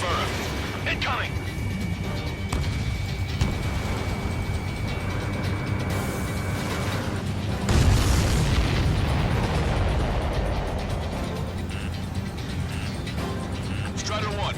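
Missiles and explosions fill a jet combat scene in Ace Combat 7, with mechanical clatter, bursts and a loud blast partway through. Radio voices talk over the sound.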